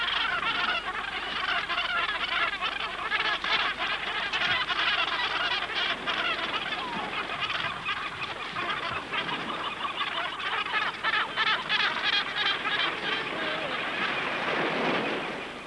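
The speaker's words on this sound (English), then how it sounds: "a whole range of gannet courtship behavior can be witnessed within a few square meters" Gannets at a crowded nesting colony during courtship give harsh, rasping calls, many overlapping birds croaking and honking continuously at close range, forming a dense, noisy chorus.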